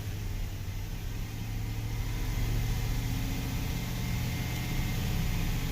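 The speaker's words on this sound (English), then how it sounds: "Giving it some throttle." A Chevrolet Silverado engine, just repaired after a misfire, runs under throttle with a steady mid-pitched rumble that builds slightly and holds, heard close and continuous with no talking.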